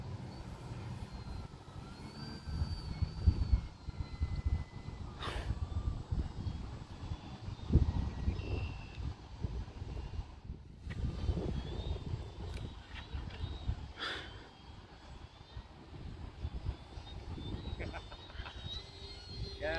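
Engine and propeller whine of an RC aerobatic airplane on its maiden flight in wind, a steady buzzing drone that shifts in pitch as it maneuvers, with wind noise and someone talking over it.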